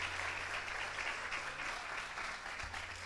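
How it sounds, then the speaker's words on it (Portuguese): A church congregation applauding, a continuous dense patter of many hands clapping together at an even, fairly soft level with no voices on top. "Vamos recebê-lo com uma salva de palmas ao Senhor."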